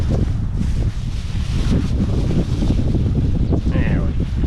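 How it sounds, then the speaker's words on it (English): Strong wind buffets the microphone in loud, rumbling gusts on a private dock on the Gulf, with water and a boat's movement faintly beneath and a brief voice near the end. "The wind is obnoxious."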